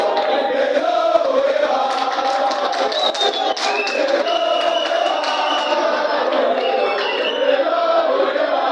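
A crowd of UDPS party activists welcomes someone with banners, their dense chatter and shouts forming a steady, loud wash of many voices throughout.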